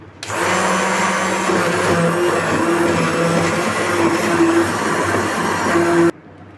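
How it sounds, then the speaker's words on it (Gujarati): A kitchen blender runs loud and steady for about six seconds, crushing green chillies into a mix of besan and curd, then cuts off abruptly. No speech. "હવે આપણે એની અંદર લીલા મરચાં એડ કરી દઈશું. બ્લેન્ડર મારી લઈશું."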